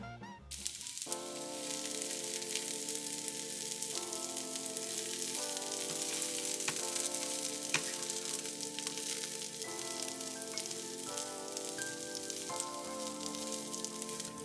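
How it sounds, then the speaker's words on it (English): Slivered almonds dry toasting in a pan give off a steady, even sizzle and crackle that runs throughout, heard alone under soft background music and with no talking. "Over here I'm dry toasting our slivered almonds."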